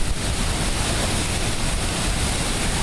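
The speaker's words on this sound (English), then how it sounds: "I love the sound of the water." Steady rushing flow of water at the Mirage resort on the Las Vegas Strip, a dense, continuous broadband wash with no pauses, close and fairly loud.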